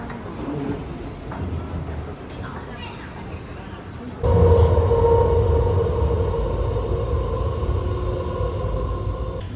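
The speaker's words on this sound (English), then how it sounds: "We made it to the metro train that connects both Pudong and Hongqiao Airport" A Shanghai metro train linking Pudong and Hongqiao airports rumbles along with a low, continuous roar and steady hum, growing noticeably louder partway through as it picks up speed.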